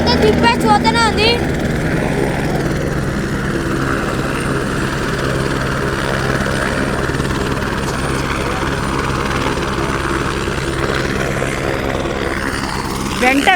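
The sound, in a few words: helicopters flying back and forth at Kedarnath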